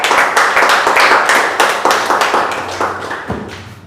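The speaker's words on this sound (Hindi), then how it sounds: "और इनके लिए जोरदार ताली होनी चाहिए।" Audience at a Renatus Wellness meeting claps loudly in a steady rhythm, the applause continuing throughout and tapering slightly toward the end.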